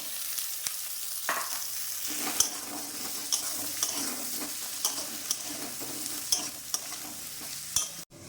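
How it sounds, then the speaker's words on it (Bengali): Diced potatoes fry in a pan after onion and ginger, a continuous sizzle broken by repeated scraping and clinking as a spoon stirs them, close and alone without voices. "এর মধ্যে ডুমো করা আলুগুলি দিয়ে দিলাম।"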